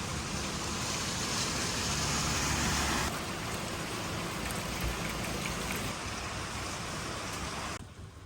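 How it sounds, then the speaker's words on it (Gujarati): Steady drizzle of rain falls outdoors in a green monsoon setting, a continuous soft hiss with no speech, its texture shifting slightly partway through and easing toward the end. "વરસાદ ચાલુ જ છે ઝરમર જોવો"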